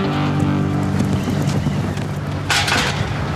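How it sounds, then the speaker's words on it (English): A strong Levanter wind sweeps across an exposed farm, roaring loudly against the microphone throughout, with a sharper gust toward the end. "it's too windy."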